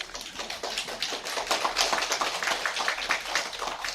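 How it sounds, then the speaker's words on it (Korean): A lecture audience claps steadily for several seconds, a dense, even patter of many hands at moderate distance with no talking over it. "이게 무슨 박수인지 알 수가 없네."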